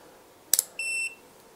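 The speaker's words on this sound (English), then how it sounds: "So first thing I want to test is continuity test." An EEVblog 121GW multimeter gives a short click and then a clean continuity beep of about a third of a second, fairly quiet and close, with no voices.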